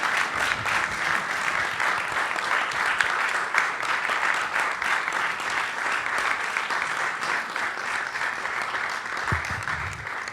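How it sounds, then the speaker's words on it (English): Sustained applause from a sizable audience, steady and even throughout, heard close and fairly loud with no voices. "could you please give a nice round of applause to our guests today?"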